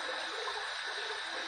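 Hot tap water runs over a shaving brush, a steady hissing splash of moderate loudness that continues unbroken, with no voices.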